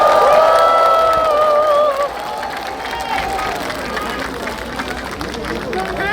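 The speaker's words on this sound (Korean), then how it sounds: "백금열 선생님과 광주국악단에 다시 한번 뜨거운 박수 부탁드립니다." Crowd at an outdoor candlelight rally in Gwangju's 5·18 Democracy Plaza claps and cheers after a traditional Korean music group. Music fades out first, then a broad wash of applause and voices carries on at a steady level.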